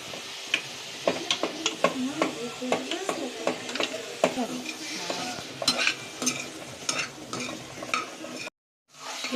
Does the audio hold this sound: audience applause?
no